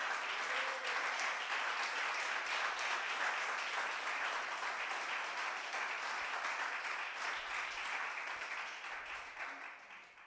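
A church congregation applauds steadily for about ten seconds, a dense wash of clapping that fades slightly toward the end, with no voices standing out.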